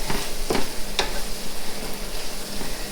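Chopped onions for dirty rice browning in a hot pan, giving a steady loud sizzle with a few sharp clicks and scrapes from stirring and no talk.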